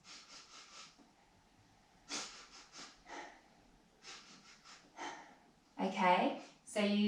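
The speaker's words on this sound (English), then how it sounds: "I'm going to sniff in and twitch my nose" Someone doing a bunny breathing exercise sniffs in through the nose in quick sets of short, soft sniffs, with breath let out between the sets, ending in a louder exhale.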